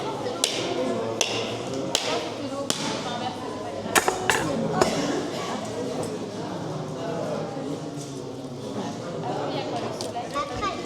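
At a festival at La Balsamine theatre in Brussels, a hammer taps and cracks something in a run of sharp, irregular knocks, some clustered close together, under steady conversation.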